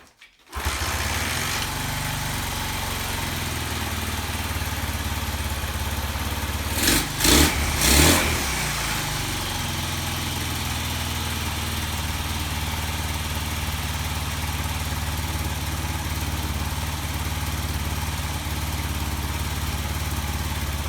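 A 1981 Honda XL125s motorcycle kicks over and catches almost at once, then runs steadily and loud nearby, with a short blip of revs midway before settling back to a buzzing idle.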